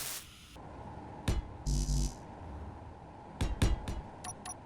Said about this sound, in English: Let's weld it up.